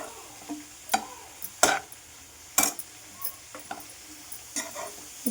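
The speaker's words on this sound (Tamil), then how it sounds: "இப்போ நெய்யிலே நம்ம கேரட்டை வந்து வறுத்துட்ருக்கோம்." Carrots fry gently in ghee over a slow simmer for carrot halwa, with a faint low sizzle under intermittent clinks and scrapes of a spoon stirring against the pan.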